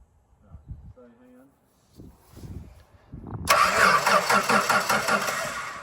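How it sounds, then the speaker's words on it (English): After some brief talk, a ute's starter motor cranks the engine with a loud, steady churning whir that holds for over two seconds without the engine catching. "Give me a crank, Jummel."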